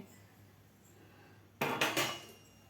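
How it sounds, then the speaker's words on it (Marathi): A metal tin is set onto a stand inside a kadhai filled with salt, giving a sudden close metallic clatter with two or three quick ringing knocks after a quiet start. "आपल्याला कढईमध्ये हा डब्बा ठेवायचा आहे"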